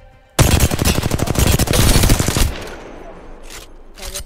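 An R-301 rifle in the video game Apex Legends fires a loud, rapid automatic burst of about two seconds, then the shots stop and quieter mechanical handling clicks follow, with no speech.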